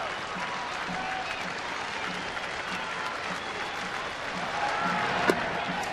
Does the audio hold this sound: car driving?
no